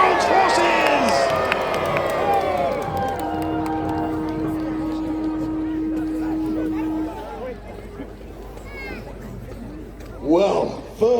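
Large outdoor crowd at a Battle of Hastings reenactment roars and cheers, loud and sustained at first, easing off, then rising again near the end, with a steady whistle-like tone and talk mixed in.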